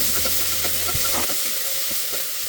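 Tomato dropped into a pan of fried onions, giving a steady close sizzle and hiss with a low hum and a few stirring clinks, no voices.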